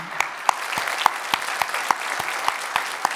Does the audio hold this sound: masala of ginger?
no